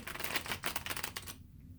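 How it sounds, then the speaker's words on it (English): A deck of tarot cards is shuffled by hand in a brief burst of rapid, crisp riffling flutters that stops abruptly after about a second and a half, leaving near silence. "I'm going to shuffle a couple more times, cut, and then we will begin"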